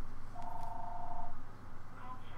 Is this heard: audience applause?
no